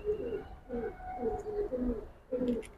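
Silver Giribaz pigeons coo in a steady rolling series of soft, low, throaty calls, repeated about five times in close succession with a brief pause before a final coo, heard nearby and alone.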